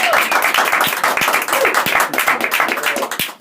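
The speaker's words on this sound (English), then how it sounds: "give a round of applause there for some amazing stuff" A small group claps nearby, with individual hand claps standing out sharply and unevenly within a brief round of applause.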